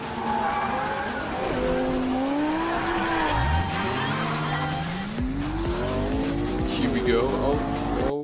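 Cars slide through corners in the Forza Horizon 2 racing video game, with loud engines revving and shifting pitch and tires squealing during the skids. The engine noise runs continuously and a voice talks over it.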